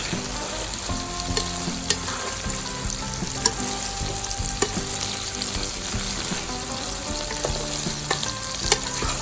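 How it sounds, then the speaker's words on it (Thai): Holy basil leaves and shallots stir-fried in a hot pan, giving a continuous loud sizzle with occasional clicks and scrapes of a spatula throughout. "เราก็เติมใบกระเพราใส่กองหอมครับผม ครับ ใส่ลงไปนะครับ"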